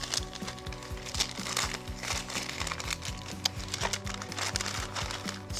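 Smoked ribs fresh off the smoker are unwrapped on a cutting board, with close crinkling and rustling of wrapping and small taps and crackles throughout, no voices.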